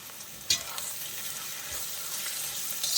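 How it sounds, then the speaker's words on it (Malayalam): Chopped medium-sized tomato sautéed in a pan while cooking broccoli roast, a soft continuous sizzle with a few scraping stir strokes and light clinks, close by and unaccompanied by voices. "ഇനി അതും കൂടി ചേർത്ത് നമുക്ക് വഴറ്റാം."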